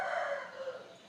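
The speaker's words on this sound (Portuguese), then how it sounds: "Vocês estão escutando aí, ó, a zoada do galo, muita zoada." A rooster crows once, fairly faint and a short distance off, a single sustained call that slowly fades.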